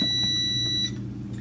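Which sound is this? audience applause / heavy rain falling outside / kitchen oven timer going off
kitchen oven timer going off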